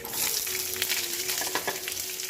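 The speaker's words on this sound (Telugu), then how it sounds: "ఎర్రగడ్డలు బాగా వేగాలండి" Chopped onions sizzle in hot oil in a pan with mustard seeds, cumin and chana dal for wheat rava upma, a steady, close frying hiss that holds throughout with faint crackles and no voices.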